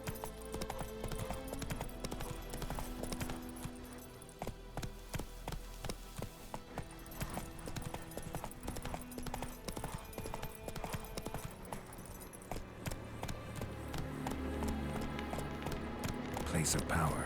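Steady clip-clop of a horse's hooves trotting in The Witcher 3 video game on PS5, continuous rhythmic hoofbeats over a dense bed of game music and ambience.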